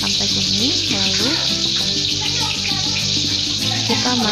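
Onions fry in a pan for Aceh-style white duck curry, a steady loud sizzle and crackle throughout, with a voice talking over the cooking.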